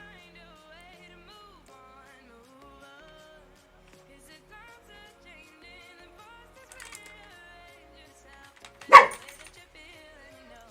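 A pet dog gives a single sharp, loud bark in a quiet indoor room after a long near-silent stretch, with faint scattered small noises before it.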